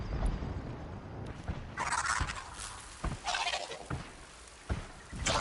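Gobbling, turkey-like bird calls from a creature in Horizon Zero Dawn, several loud bursts repeating irregularly over a steady game background with no talk.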